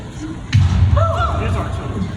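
A single dull cannon boom thuds at a distance at a Civil War reenactment of the burning of Chambersburg, Pennsylvania, followed by a low rumbling tail, with faint voice-like sounds layered over it.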